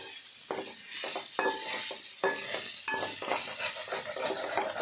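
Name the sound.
stirring fried chicken pieces with masala in a pan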